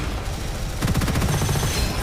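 Rapid submachine gun fire in the Gunfire Reborn shooter game, a dense, loud burst of closely spaced shots growing sharper and more rattling midway, continuous for about two seconds with no talking.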